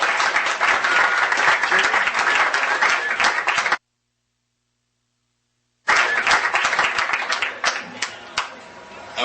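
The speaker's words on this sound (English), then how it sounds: "All here, a big round of applause." A roomful of people gives a big round of applause for the guests just introduced, loud continuous clapping that cuts out briefly, then returns and tapers toward the end.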